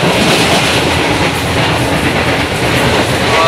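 Passenger train with a China-made CRC coach built in 2022 running on rails, a loud steady rumble and clatter of wheels heard from inside, continuous throughout with no talk.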